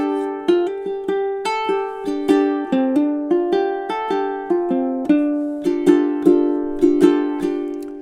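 A ukulele played fingerstyle works through measures 4 to 8 of a 12-bar minor blues, plucked notes and chords ringing in an even, clear rhythm, close and alone.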